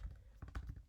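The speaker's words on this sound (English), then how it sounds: "let me just type in weight" A short burst of quick, close keystrokes tapped on a computer keyboard, a handful of soft clicks in an irregular rhythm with no talking.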